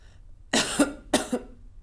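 A person gives two sharp, close coughs about half a second apart in an otherwise quiet room.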